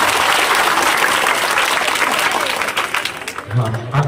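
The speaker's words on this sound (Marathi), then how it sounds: "आता फक्त लाडके भाऊ लाडक्या बहिणींसाठी टाळ्या वाजवतील" Men in a lecture audience applaud, a loud continuous wave of clapping that thins out toward the end as a voice begins speaking.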